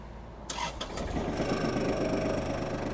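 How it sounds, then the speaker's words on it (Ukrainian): A Kubota GL-29 Japanese mini tractor engine cranks briefly, catches, and settles into a steady, close, chugging idle. "Зараз давайте ми його заведемо та послухаємо, як працює двигун."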